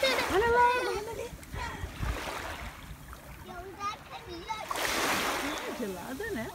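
Cold Baltic seawater splashes at the shore in Neustadt in a few separate bursts, with people and someone talking close by between them.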